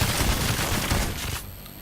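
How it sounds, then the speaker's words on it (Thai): Loud, dense bursts of rapid gunfire in Payday 2 rattle continuously and then cut off abruptly, leaving a quieter hum behind. "ยิงปืนส่งท้ายหน่อย"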